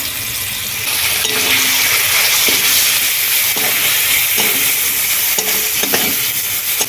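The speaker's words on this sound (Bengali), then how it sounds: "এবার দিয়ে দেবো তেল। তেলের মধ্যে দিয়ে দেবো হলুদ গুঁড়ো, টমেটো কুচি, এর মধ্যে আছে আদা, জিরে এবং ধনে বাটা।" Turmeric, chopped tomato, ginger, cumin and coriander paste fry in hot oil with a loud continuous sizzle, punctuated by repeated spatula scrapes and knocks against the pan.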